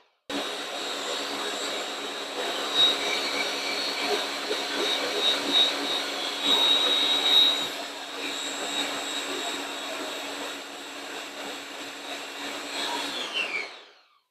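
A Deluxe Ninja blender system whirs continuously while blending an organic pear smoothie, a loud steady high-pitched motor roar lasting about thirteen seconds before cutting off abruptly, no talk.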